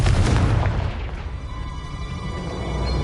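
A Confringo fire spell explodes in Hogwarts Legacy on PS5: a loud, deep boom bursts at once, then fades into a low rumble with a faint ringing tail.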